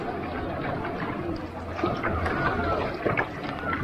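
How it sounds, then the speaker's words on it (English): Small rapids of water running beneath a Feelfree Nomad kayak in Ladram Bay, a steady broadband rushing wash with occasional louder splashes, close and continuous throughout. "There's a bit of rapids under this water here."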